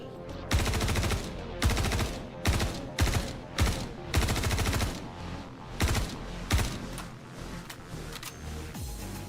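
A gun firing in the game Tin Can, loud bursts of rapid shots in an uneven cadence with short pauses between volleys, followed by a quieter stretch.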